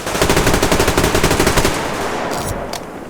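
Loud, rapid automatic gunfire in the Survarium video game, a sustained burst of close shots that stops abruptly, followed by a couple of faint sharp cracks.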